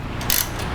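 A head bolt is set back into a small air compressor pump, giving a brief metallic rattle and clink near the middle. It is close and moderately loud, with no talking.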